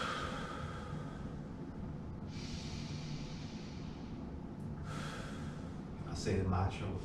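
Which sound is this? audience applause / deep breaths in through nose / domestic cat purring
deep breaths in through nose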